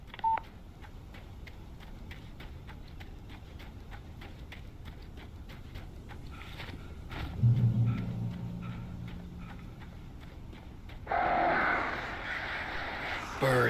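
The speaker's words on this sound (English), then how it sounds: "Birds." Crows caw faintly in the game Alan Wake Remastered, set against a quiet backdrop of regular ticking clicks, followed by a louder low rumble and then a burst of hissing noise.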